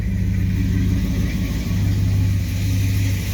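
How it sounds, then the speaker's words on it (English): A 1929 Chrysler coupe fitted with a 360 V8 idles steadily up close, a loud, even low rumble with a constant drone and no breaks. "A good, strong, healthy motor. Needs to be driven."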